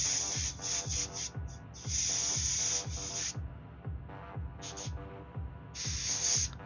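An airbrush sprays paint onto a tabletop miniature in a steady, close hiss that cuts in and out in short bursts, with a rhythmic low mechanical pulsing from the compressor running underneath.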